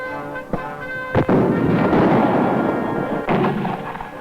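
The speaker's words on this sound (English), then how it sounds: "if you really want to clobber a target, grab one of these 106mm recoilless rifles" A 106mm recoilless rifle operated by National Guardsmen fires, giving a sharp blast followed by a heavy, sustained roar and a second burst, loud and close with no talking.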